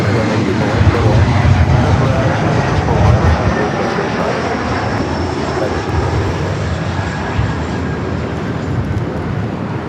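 An airliner landing at Los Angeles LAX produces a loud, steady roar of jet engines with a broad rushing rumble that holds for the whole stretch, while radio voices talk over it.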